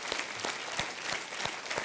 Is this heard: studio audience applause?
yes